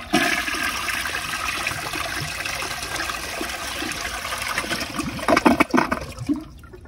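An American Standard Cadet space saver toilet flushes in one loud, rushing gush of water that swirls and gurgles before tapering into a trickle as the tank refills.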